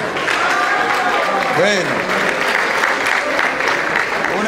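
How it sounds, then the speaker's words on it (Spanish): Steady applause for a raffle winner at a dinner in Bogotá, continuous crowd clapping throughout with a voice speaking briefly over it. "un aplauso para María Victoria"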